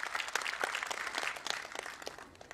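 Audience applause for a guest at a panel discussion, a sustained patter of many hands clapping at moderate level, fairly even and slowly thinning toward the end.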